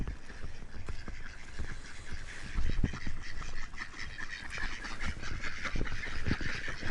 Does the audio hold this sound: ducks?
yes